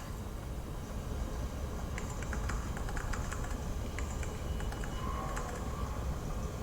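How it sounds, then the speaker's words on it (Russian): Someone types on a computer keyboard, heard as a quick run of soft clicks in the middle, under a steady background hum from a game. "На клавиатуре кто-то печатает,"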